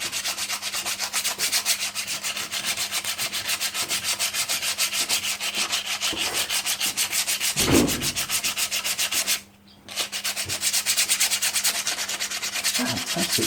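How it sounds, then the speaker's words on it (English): Sandpaper rubbed lightly by hand around Honda ATC front brake shoes, a steady close scratchy rasp that runs almost without a break and pauses briefly near the end. "What you're doing is just a light sand"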